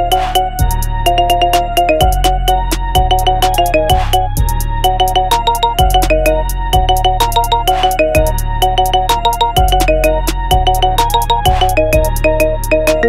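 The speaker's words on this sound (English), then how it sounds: "Download now and enjoy this as your ringtone." Marimba remix of a song as a ringtone, loud bright mallet notes in a steady looping melody over a deep repeating bass and crisp percussion hits, playing alone throughout.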